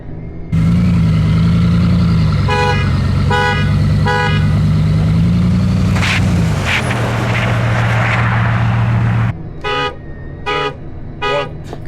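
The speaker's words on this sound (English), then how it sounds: "I'll do 3 honks" A Tesla Model S Plaid horn honks in three short bursts over a running car, then a few more quick honks follow after a pause.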